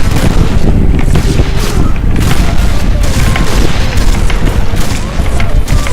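Strong wind roars in a sniper video game, a loud, dense, continuous buffeting rumble with boomy low gusts that persists throughout and drowns out other sounds.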